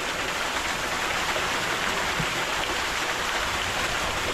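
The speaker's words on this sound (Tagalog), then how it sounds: "Fresh water from the mountain." Fresh mountain stream water rushes and splashes continuously, a dense, loud, even broadband flow close by with no voices over it.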